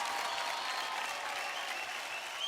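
A TV studio audience at a Marathi dance competition show bursts into loud, sustained applause, dense clapping that fills the space without a break.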